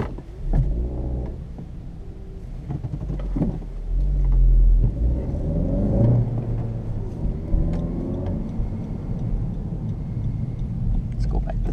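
A 2017 Honda Civic Hatch Sport with a manual gearbox drives on a road, its engine humming and rumbling steadily as it turns and pulls away, with people talking over the drive.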